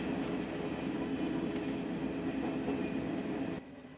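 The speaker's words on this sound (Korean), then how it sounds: "경부고속선 하행 KTX를 타고 대전 방향으로 가보겠습니다" Steady rumble and hum of a KTX high-speed train in motion on the Gyeongbu high-speed line, heard from inside the carriage, ending abruptly in a quieter, softer tone.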